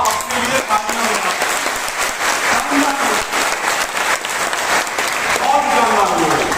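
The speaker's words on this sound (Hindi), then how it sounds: "आप अपने लिए तालियां बजाएं।" An audience at a motivational talk claps together in a sustained, dense burst of applause that swells near the end, with no voices heard over it.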